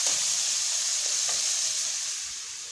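Tomato paste frying in hot oil in a pan, a steady close sizzle with a bright hiss that eases slightly toward the end, brief and without talk.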